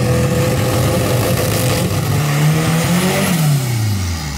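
A Ford Mustang V6 and a turbocharged VW Gol race side by side, their engines revving loudly and close, with rising and falling pitch as the cars accelerate and shift, uninterrupted by voices.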